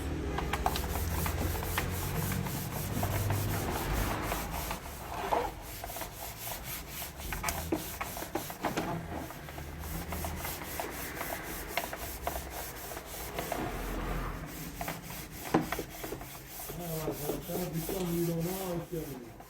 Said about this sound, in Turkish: montaj yapmadan önce önce güzelce keçeliyoruz